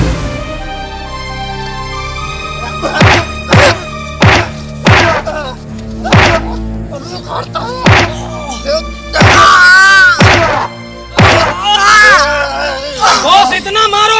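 Loud, repeated thumping blows land on a man in a Maithili comedy fight scene, a rapid series of sharp whacks mixed with groans and shouting voices over background music.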